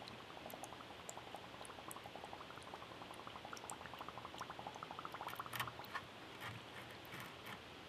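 Air bubbles escape from a rifle magazine submerged in sediment-stirred dirty water, giving a continuous quiet fizzing and irregular gurgling patter of small pops, close by and faint, with no voices.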